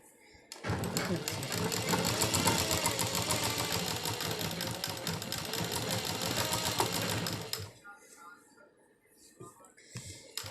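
Sewing machine running a straight stitch along a palazzo pajama hem, a loud, fast, steady mechanical rattle lasting about seven seconds before it stops, with faint speech and handling sounds afterward.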